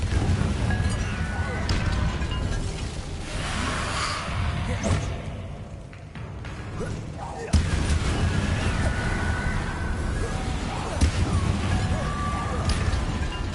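Confringo explosive spells cast over and over in the Hogwarts Legacy game, heard as dense, loud bursts and crashes with clinking impacts over a constant busy game din and a sharp blast near the end.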